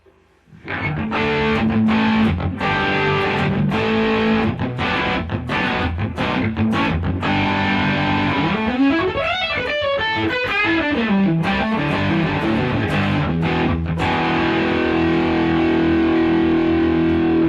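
An electric guitar runs through a Prince of Tone Bluesbreaker overdrive pedal with every knob at noon. It plays loud, steady chords with sharp strums and a brief bending, wavering passage in the middle, with no talking.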